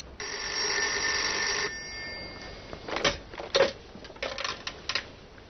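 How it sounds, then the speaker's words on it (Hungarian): A telephone bell rings in an apartment, one sustained bright ring of over a second, followed by scattered clicks and knocks nearby. "Ebben a pillanatban megszólalt a lakásban a telefon."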